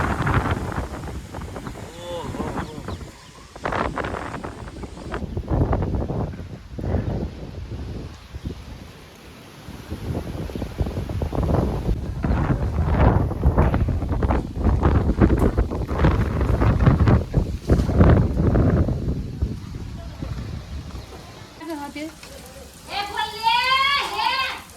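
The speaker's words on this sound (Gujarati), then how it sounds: "વાવાઝોડું પવન જોરદાર વચિન તો આખું વાતાવરણ ચેન્જ થઈ ગયું" Strong stormy wind buffets the microphone in heavy, rumbling gusts through most of the stretch, while people talk throughout.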